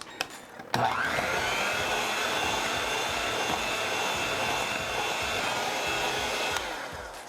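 An electric mixer beats pizzelle cookie batter after dry ingredients are added. A close, loud, steady motor whir starts abruptly and holds evenly for about six seconds before easing off.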